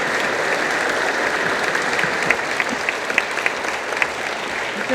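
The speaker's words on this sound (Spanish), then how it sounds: "Aplauso, perdón." A full hall at a book presentation in the Palacio de Minería bursts into sustained applause, dense even clapping with a few sharper individual claps standing out, no voices over it.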